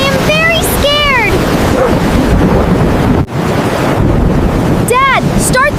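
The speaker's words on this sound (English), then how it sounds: "It is a hurricane! The waves are huge!" Hurricane wind roars with huge ocean waves crashing at sea in a small boat, a loud continuous rush of wind and surf throughout, with high-pitched seagull-like cries and a brief dip near the middle.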